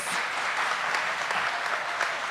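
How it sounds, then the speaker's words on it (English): Steady applause from a crowd at a government town hall meeting, dense clapping that holds at an even level throughout. "Give her another round of applause."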